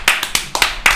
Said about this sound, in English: Let's clap that.